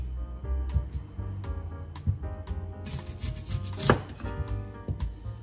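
A knife chops an onion into small squares on a cutting board, a steady run of close, crisp taps with no one speaking.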